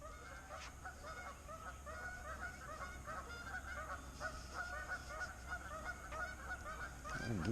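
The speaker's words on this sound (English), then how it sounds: "The geese are going berserk." A flock of geese honks steadily and repeatedly at a middle distance beside a lake in early spring, under a constant low background hum, with no talking.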